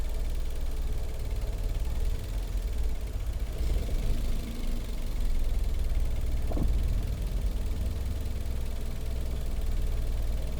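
A manual car's engine runs steadily while the driver tries to pull away in fifth gear with light throttle and a slowly released clutch, producing a constant low hum and rumble throughout, with no talking.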